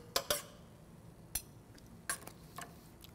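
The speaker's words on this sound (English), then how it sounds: "So I'll stir that all together" Seasoned chicken larb with fish sauce being stirred in a bowl, a spoon clinking sharply against the dish a handful of times at irregular intervals, close and otherwise quiet.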